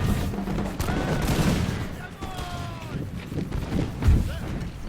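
Musket volley gunfire in the Napoleonic-era strategy game Imperial Splendour, Russian army: a dense crackle of rifle shots rolls across the clip under a busy battlefield wash, with a heavier boom near the end.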